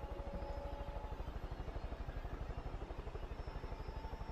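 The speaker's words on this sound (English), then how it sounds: "Why's my helicopter moving so slow?" A helicopter flies in the Far Cry 5 video game, its rotor thudding in a fast, steady pulse under a constant engine drone. No one talks.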